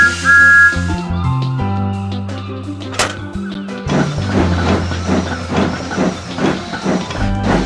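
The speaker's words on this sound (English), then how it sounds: "Let's blow the whistle." Thomas the Tank Engine's steam whistle sounds in a 2001 PC railway adventure game, a bright, tuneful whistle blast followed by hissing steam and chuffing train noise, with game music throughout.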